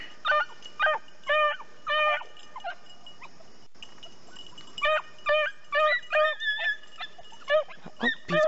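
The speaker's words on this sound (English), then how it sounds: "Little, little tiny barks up there." Small dogs yipping and barking in quick bursts, high-pitched and fairly close, with a brief pause midway before a livelier run of yaps.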